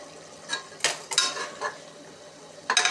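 Tomatoes sauté in a pan for prawn biryani, with a low sizzle under a few scattered scrapes and clatters of a spoon against the pan, close and intermittent, with no talking.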